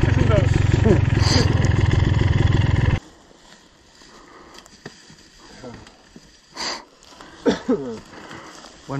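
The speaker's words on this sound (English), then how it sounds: "Nice wheelie. Yeah, the wheelie looked good." Motorcycle revving loudly for about three seconds while doing a wheelie in Burma, then cutting off, leaving quieter outdoor sounds with riders talking briefly.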